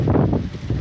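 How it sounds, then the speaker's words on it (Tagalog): Strong, cold morning wind gusts across an open farm field with sweet corn, roaring low and steady into the microphone in a brief, close burst. "Oh, grabe ang kusog sa hangin guys"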